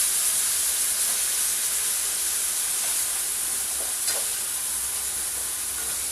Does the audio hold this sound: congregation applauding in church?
no